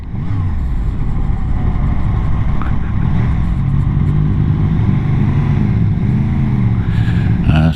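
Traffic passing a motorcycle on a Scottish road: loud, constant engine drone with a vehicle rushing by close and a rising rev near the end, no talking.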